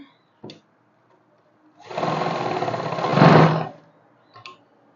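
A sewing machine stitches a simple kurti in one close, steady burst of motor whirr and needle rattle lasting about two seconds, with brief clicks before and after.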